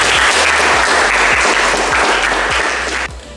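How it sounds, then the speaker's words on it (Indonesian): Applause from a classroom of students, dense and steady for about three seconds, then breaking off abruptly into quiet room tone. "Oke, kita kasih aplaus untuk semuanya."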